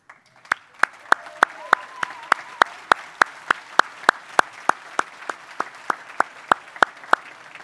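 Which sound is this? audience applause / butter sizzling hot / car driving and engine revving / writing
audience applause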